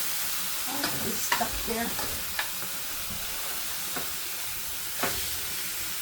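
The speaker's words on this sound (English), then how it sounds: "I can smell the garlic cooking and everything" Garlic frying in a pan, a steady loud sizzle and hiss with occasional sharper stirring scrapes; a voice speaks briefly over it.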